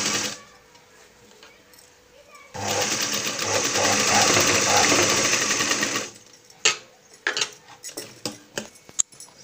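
Double-stitching a seam on a dhoti dress, a sewing machine runs loud and steady for about three and a half seconds after quiet handling, then gives way to clicks and knocks of fabric and machine parts.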